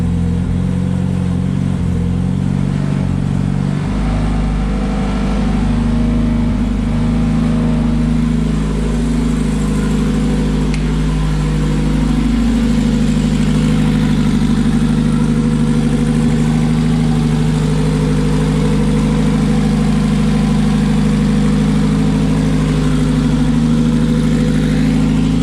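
A car engine settles into a loud, steady idle that rumbles continuously close by, with a slight shift in tone just after it starts.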